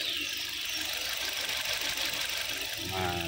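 A Suzuki Ertiga engine idles steadily at close range, a constant mid-range hum with faint knocking texture, while a shifting gear problem is being checked with the engine running; a brief clunk near the end.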